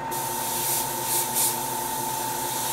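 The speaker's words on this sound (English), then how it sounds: "Just going to do a quick little test spray," An airbrush spraying primer in a steady, close hiss with a faint pump hum beneath, swelling slightly in two brief pulses.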